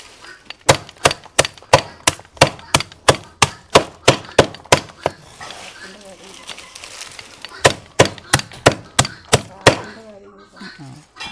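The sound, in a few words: chopping grass for cattle feed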